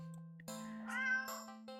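A stranded black cat meowing in the game Don't take this Cat Home, a clear close meow over a steady electronic music drone, followed by a second shorter, rising meow.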